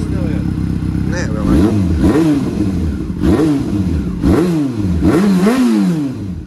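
A warmed-up Fiat Punto 1.2 8V petrol engine, fitted with new injectors, revs hard several times in a row, each rev rising in pitch and falling back to idle, loud and close.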